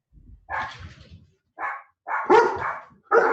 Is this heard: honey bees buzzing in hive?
no